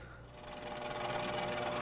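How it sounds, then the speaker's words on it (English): A CNC router counterbores screw heads about half an inch deep, giving a faint, steady mechanical whir with a fast repetitive texture, slowly swelling slightly louder over two seconds, with no voices. "I'm just counterboring the screw heads here by about a 1/2 inch"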